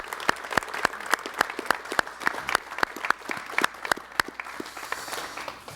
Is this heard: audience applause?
yes